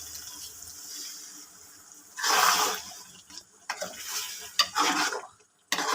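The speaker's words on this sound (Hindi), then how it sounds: "अब जो है वो हम इसमें 1 कप पानी डाल देंगे।" Water poured into a pan of frying beef karahi and stirred, with soft sizzling followed by several splashy bursts of liquid and stirring that come and go in uneven surges.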